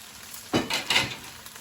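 Rice tossed into a hot pan for chicken fried rice, a sudden close burst of sizzling with a couple of scraping pushes that quickly settles to a soft hiss.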